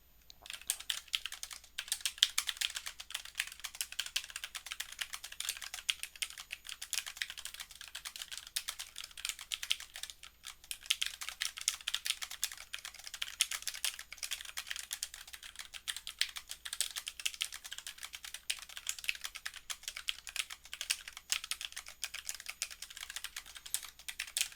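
Very fast typing on a computer keyboard during a MonkeyType speed test, a dense unbroken stream of rapid clicky keystrokes close up, with only brief pauses and no talk.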